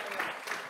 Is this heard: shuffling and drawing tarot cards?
no